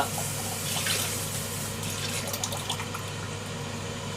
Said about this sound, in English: I'm going to just rinse this out